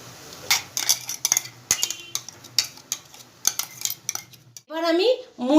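Ground paste is tipped from a grinder jar into a pot with a run of sharp metal clinks and scrapes of a spoon against the container, followed by a short burst of voice at the end.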